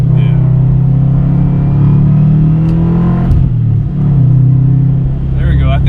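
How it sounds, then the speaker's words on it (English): A modified sleeper Subaru WRX accelerates, its engine a loud, close droning rumble from inside the cabin that rises in pitch, dips briefly at a gear change, then pulls again. "when you land the shifts perfectly, this car picks up really, really quick"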